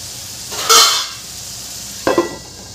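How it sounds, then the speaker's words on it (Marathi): A lid set down on a pan of sabudana khichdi, two short clinks of metal a moment apart, close and moderately loud over a faint sizzle. "आता यावर आपण झाकण ठेवून द्यायचं आहे"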